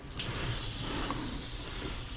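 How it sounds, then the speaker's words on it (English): Water gushes and splashes steadily into a kitchen sink as a pot is emptied after cooking sweet potatoes, close and continuous. "I'll just dump the water out."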